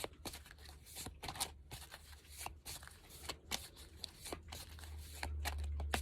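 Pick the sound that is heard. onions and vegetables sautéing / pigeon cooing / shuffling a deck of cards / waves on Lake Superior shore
shuffling a deck of cards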